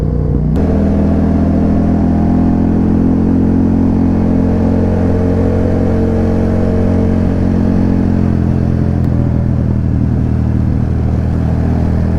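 Motorcycle engine droning steadily while riding on hill roads, a loud, close, continuous rumble with slight shifts in pitch and no talk over it.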